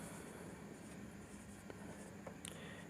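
Pen scratching on paper while working a mensuration math problem, a faint continuous scribble with a few light taps, close but quiet and with no talk.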